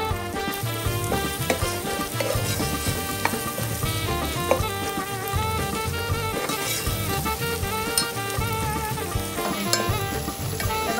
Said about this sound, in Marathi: चला आता आपण याच्यात टाकू टोमॅटो आणि मस्त त्याला परतून घेऊया